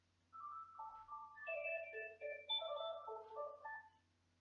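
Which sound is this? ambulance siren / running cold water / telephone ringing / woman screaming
telephone ringing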